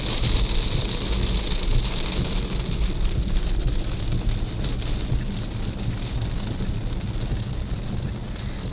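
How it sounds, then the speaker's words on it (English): Steady pouring rain patters on a car while it drives, blending with road and wind noise in a constant hiss. "And looks like the rain is picking up again."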